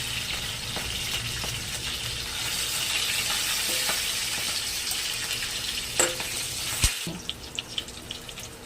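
Green chilies frying in a pan with steady hissing sizzle and faint water-like crackle throughout, close and continuous, with a few sharper clinks and stirring taps near the end; no talking.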